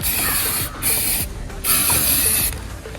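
Alloy wheels being coated with aerosol spray paint, bursts of loud hissing spray in two long passes separated by short pauses, close by.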